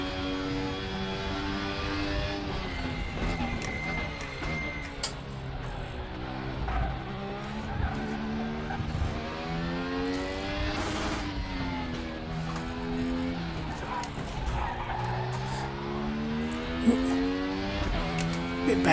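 DTM 95 four-wheel-drive race car in the RaceRoom video game, engine revving hard up and down through repeated gear shifts, with a steady loud whine and occasional tire squeal, continuous throughout.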